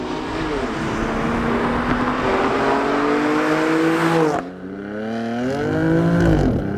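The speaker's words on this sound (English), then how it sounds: "When you put the top down and you have the exhaust in Sport or Sport Plus, the amount of noise that comes out of this car is beyond belief." A 2020 BMW M4 Cabriolet Competition driven with the top down and the exhaust in Sport mode gives a loud, close engine roar that climbs through the revs, breaks off briefly at a gear change, then rises again with a rasping growl.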